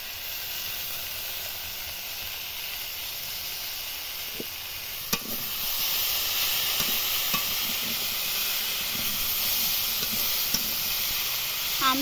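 Mango pieces are sautéed in a pan for a sweet chutney, producing a steady hiss of frying with faint stirring scrapes and a few light clicks, growing slightly louder midway, with no talking.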